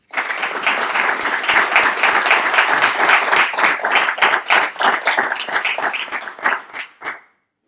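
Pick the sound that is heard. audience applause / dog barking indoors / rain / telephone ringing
audience applause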